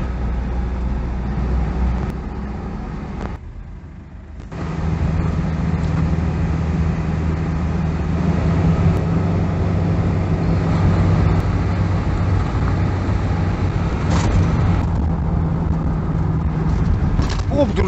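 A car drives along a city street in Ussuriysk, its engine and road noise forming a loud, steady low rumble from inside the cabin, with a short quieter dip early on.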